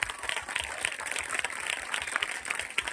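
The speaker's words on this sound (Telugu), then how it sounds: "అందరం బిగ్గరగా చప్పట్లు కొట్టి వారిని అభినందిద్దాం" An audience claps after a Lutheran church youth skit in a Christian social drama, with steady, fairly loud applause filling the short stretch and a faint crowd murmur underneath.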